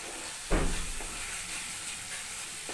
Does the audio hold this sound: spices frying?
yes